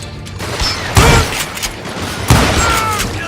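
Gunfire in the Western shooter Call of Juarez Gunslinger, with two loud, booming shots about a second and a half apart ringing out over a busy background of game ambience.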